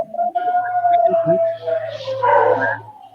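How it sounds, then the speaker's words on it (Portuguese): Dogs bark and howl close by: a long, sustained howl runs through the whole stretch, with sharper yips and barks layered over it and a voice heard alongside. "Tem uns cachorros aí que estão..."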